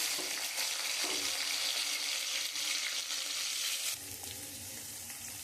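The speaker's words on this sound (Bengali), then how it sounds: "এই তেলের আমি গোবিন্দভোগ চালটা একটু ভেজে তুলে নেব।" Gobindobhog rice fries in oil in a pan, a close, steady, crackling sizzle that drops to a softer hiss near the end, with no one talking.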